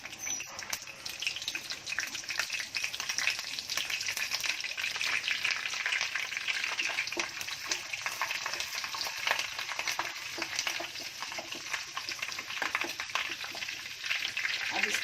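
Curry leaves crackle and sizzle as they fry in oil left over from frying bombil, a continuous close spatter with stirring and a running tap behind it, a voice talking over the top.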